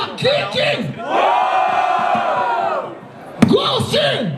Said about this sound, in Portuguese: Barulho para as rimas do Akik